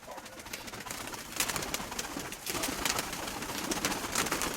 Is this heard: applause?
no